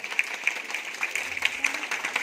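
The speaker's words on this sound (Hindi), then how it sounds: "तालियों के साथ सबका स्वागत" An audience at a Dogri Department mother-language day celebration claps in welcome, with dense, steady applause from a modest crowd heard at moderate distance.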